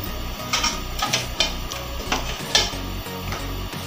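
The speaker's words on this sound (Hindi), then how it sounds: "घी हमारा गल रहा है" Two spoons of ghee melting in a hot kadhai over a high gas flame, a steady soft sizzle with light scraping stirs and small clinks recurring about twice a second, no talking.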